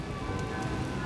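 Steady rain falls at the Indiana Beach amusement park as a dense, even hiss of drops with no pauses and no voices.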